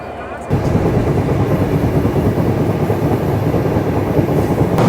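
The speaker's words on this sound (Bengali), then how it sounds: "আমাদের এই রূপসী বাংলা এক্সপ্রেস ট্রেন ভাঙ্গা জংশন রেলওয়ে স্টেশনে প্রবেশ করেছে" Rupshi Bangla Express rolling into Bhanga Junction station, a sudden steady loud rumble of wheels on rails with faint clatter, a voice talking over it.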